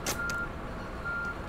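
Reversing beeps from a bus in a Berlin bus driving game on Route 300, a couple of short electronic tones over steady engine hum, with no talking.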